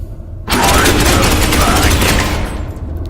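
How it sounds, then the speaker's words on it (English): A loud, sustained burst of automatic gunfire from the video game Space Hulk Ascension starts abruptly and rattles on for about two seconds before tapering off, with mechanical clatter underneath. "I just want to shoot him. And again."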